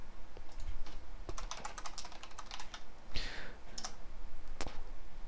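Computer keyboard being typed on at close range, quick irregular key clicks with a few louder taps and a brief rustle, no voice heard.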